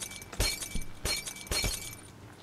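Glass shattering in the Pogo Fight video game, three sharp crashes at roughly half-second intervals with bright tinkling debris, close and loud with no talk.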